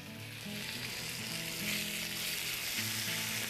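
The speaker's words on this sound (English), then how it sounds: "I heated the pan and then added the bacon and nothing is gonna stick" Bacon frying in a preheated pan with a little fat, a loud continuous close-up sizzle and crackle that swells slightly after the start, with a tonal hum running underneath.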